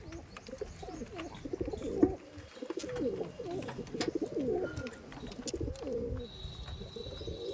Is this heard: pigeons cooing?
yes